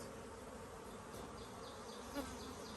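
Honeybees building comb in a hive make a faint, continuous buzzing drone, with a few individual bees buzzing close by over the steady hum of the colony.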